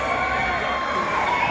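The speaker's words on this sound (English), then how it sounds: "Massive round of applause for our Dave" At the Summernats car show, a crowd cheers and shouts for a custom C10, a continuous, roaring wall of voices heard from within the crowd.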